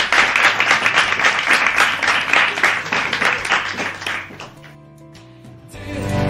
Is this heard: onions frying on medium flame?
no